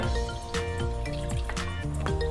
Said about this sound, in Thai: ใส่น้ำไปนิดนึงค่ะ